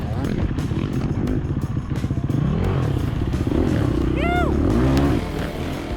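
A dirt bike motorcycle engine revs and strains through mud in the woods during a race, rising and falling close by, with speech and clattering mixed in.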